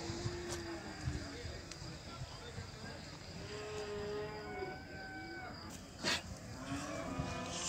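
A cow at a livestock market in Beylagan moos several times in long drawn calls, some near and some farther off, over a busy background where people talk and bargain.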